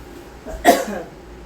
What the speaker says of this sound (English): Oh, the fumes are causing me to cough a little.